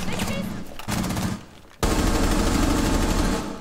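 Automatic gunfire in the video game Rainbow Six, loud rapid bursts of shots in close succession, with a brief lull before a dense sustained volley.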